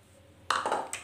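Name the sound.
pouring water onto garlic, shallots and ginger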